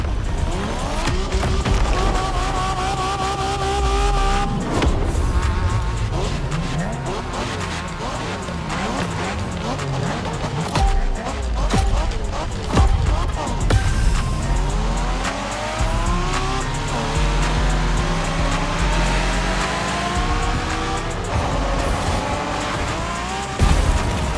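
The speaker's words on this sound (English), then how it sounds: "We're going for some proper Japanese street racing." Street racing car in The Crew Motorfest, Japanese setting, loud engine revving and shifting through gears with tire squeal and skids, continuous and close, a brief voice at one point.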